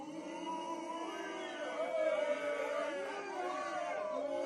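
A crowd murmurs and chatters in a steady, mid-distance wash of many overlapping voices, with no single speaker standing out.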